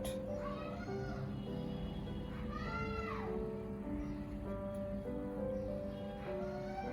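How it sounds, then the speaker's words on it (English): Several meows from a cat rise and fall at a moderate distance, repeated about three times over a continuous murmur of background sound. "C for cat"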